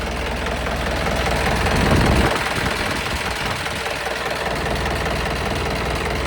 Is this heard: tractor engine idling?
yes